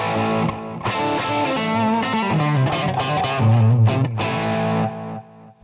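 Electric guitar run through a Line 6 Gearbox amp-modeling preset plays a loud, distorted, chorused phrase of sustained chords and notes, alone, before trailing off at the end.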